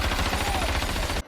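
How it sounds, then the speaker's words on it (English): Loud, rapid burst of gunfire at close range, a dense train of shots that cuts off abruptly. "Gunfire's loud."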